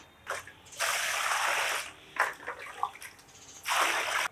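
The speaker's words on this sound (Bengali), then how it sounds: "মাছগুলো তো পরিষ্কার করে ধুয়ে নিলাম" Cut fish gets washed in water: bursts of splashing and running water come in three main surges with quieter swishing and trickling between them, close and moderate in level, with no voices.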